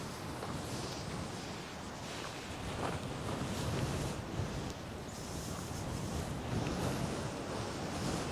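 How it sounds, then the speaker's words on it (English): Strong wind buffets the microphone in rough, continuous gusts in the Australian outback at the Yowah opal field, with a low roar like surf underneath and no voices. "Oh, damn, it's windy."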